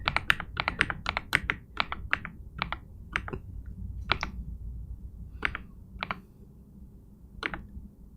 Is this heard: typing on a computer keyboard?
yes